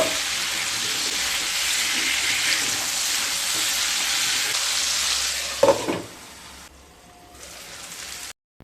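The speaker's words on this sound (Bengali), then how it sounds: "দিয়ে ভেজিটেবলসগুলোকে খুব ভালোভাবে ভেজে নেব।" Mixed vegetables with spring onion sizzle loudly and continuously in hot oil, close up, with a brief stir or clatter near the end before the sizzling fades.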